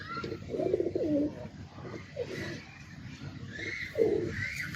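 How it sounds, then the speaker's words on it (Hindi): Soft Teddy Cross pigeon coos nearby, a few low warbling calls repeated over a quiet background with light ambient noise. "ये मेरे भाई बच्चों के लिए कबूतर है"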